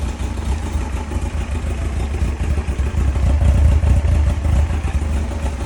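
A 2003 Yamaha FZ1 motorcycle engine idles steadily after a cold start with no choke in summer, a close, continuous low rumble with mechanical clatter that grows slightly louder partway through, and no talking.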